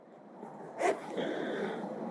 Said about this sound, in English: We're going to put that in the zipper pocket.